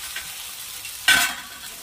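Peas and carrots being sautéed and stirred in a pan for upma, a soft background sizzle broken by a brief, louder burst of scraping and frying about halfway through.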